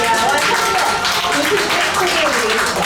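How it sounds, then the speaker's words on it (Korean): Audience clapping at a Korean Buddhist women's festival event, a loud continuous burst of many hands clapping together, with cheering voices mixed into the crowd noise throughout. "박수가 더 커져야 될 것 같습니다"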